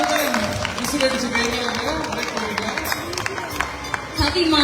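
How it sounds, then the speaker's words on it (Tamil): Audience applause at a stage tribute event in Malaysia, with dense clapping and crowd noise filling the hall and an announcer's voice speaking over it. "மீண்டும் ஒரு பலத்த கைத்தட்டல்."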